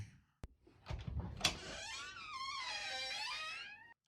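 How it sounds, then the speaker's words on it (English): In a horror film, a squeaky door gives a long, high, wavering creak that bends up and down for a couple of seconds after a few short knocks and clicks, close and clear. "and the squeaky door."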